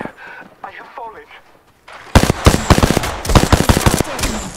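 Rapid bursts of automatic gunfire erupt in an Apex Legends match, loud and close with dense repeated cracks after a quieter stretch of game voice lines and faint radio-like chatter.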